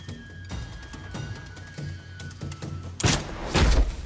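A ballista-like bow machine with huge draw fires a massive dart that pierces three boards, heard as a sharp loud thunk and heavy impact after softer mechanical knocks and creaks.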